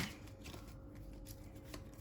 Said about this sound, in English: just using the classic Rider-Waite, and I'll let you watch me shuffle.